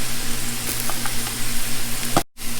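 Three stalks of celery stir-fried for chow mein, a continuous close sizzle with light scraping stirs, then a sudden brief silence before the frying resumes.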